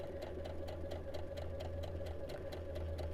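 Fitted with a regular sewing foot, a sewing machine stitches fabric along a marked line, its quiet motor humming steadily under a regular ticking beat of needle strokes.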